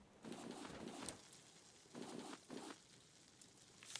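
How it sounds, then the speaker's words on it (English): In the survival game Raft, a bird pecks and eats, making faint bursts of soft cooing and pattering scratches in two clusters separated by a quiet gap. "Thought I heard a bird eating stuff."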